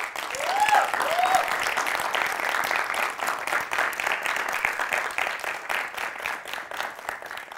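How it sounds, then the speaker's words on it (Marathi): Sustained audience applause fills a hall during a motivational talk about education, a dense, steady patter of many hands clapping at fairly close range, easing slightly toward the end. "आपण सगळे टाळ्या वाजवता"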